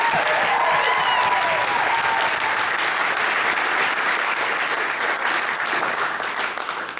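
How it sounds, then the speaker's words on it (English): Wedding guests at the Barlow wedding speeches applaud the bride Becky Barlow, a sustained, full round of clapping from a roomful of people, steady and loud for several seconds before easing slightly at the end. "Everyone give her a big round of applause."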